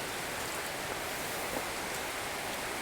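Rain falls outdoors as a steady, even hiss of fairly faint broadband noise, with no voices and no distinct individual drops standing out.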